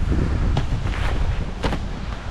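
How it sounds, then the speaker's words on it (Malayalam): Strong summer wind in New Zealand, cold and rainy, roars and buffets the microphone in loud, uneven gusts for a couple of seconds, with no talking. "ഈ കാറ്റ്"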